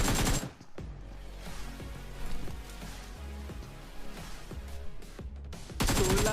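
Gunfire in the battle royale game BGMI: rapid bursts of shots with sharp individual cracks, fairly faint and steady in the game mix, ending in a louder burst.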